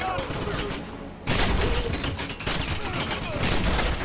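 Gunfire crackles in dense rapid volleys in the 2009 Wolfenstein game, loud and continuous, with a sharper burst partway through and voices talking underneath.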